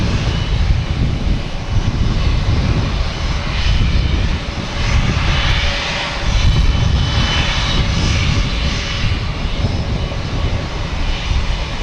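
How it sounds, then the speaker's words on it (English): Loud, continuous jet engine roar comes from a United airliner heading to Newark at Boston Logan, swelling slightly and then easing across the span, with a brief dip partway through and no talk. "We have United here heading to Newark."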